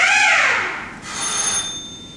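Bells and whistles from the toy counter of a Wurlitzer theatre organ: a quick rising-and-falling whistle-like sweep, then a sustained bright bell-like ring, close and fairly loud with no voices.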